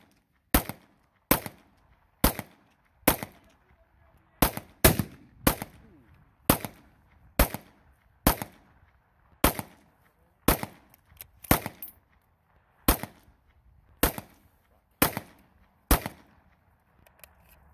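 Outdoor gunshots from a pistol, a rifle and an AR fired at wooden targets: about twenty sharp, loud cracks spaced roughly a second apart, each with a short echo tail, and no talking.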